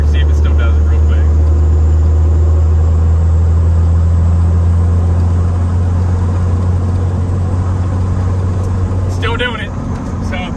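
A Cummins diesel truck cruises in sixth gear, a loud steady low engine drone heard from inside the cab, with someone speaking briefly over it.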